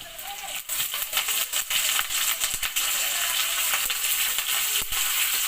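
Chopped ginger and garlic fry in hot oil in a pan with curry leaves about to be added, giving a steady bright sizzle and crackle with scattered small pops throughout.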